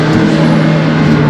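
A McLaren MSO Senna's engine roars under throttle, a loud sustained drone with a strong low hum, heard close with a voice talking over it.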